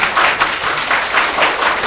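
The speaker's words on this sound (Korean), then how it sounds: "뜨거운 박수로 맞이해주십시오" An audience claps steadily in warm applause welcoming a lecturer to a special talk, a dense, continuous patter of many hands.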